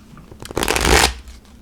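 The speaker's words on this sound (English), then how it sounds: "And it does shuffle easier than the Tarot Illuminati." A tarot deck being riffle shuffled: a single close, loud burst of fluttering card clatter lasting about half a second, alone with no talk.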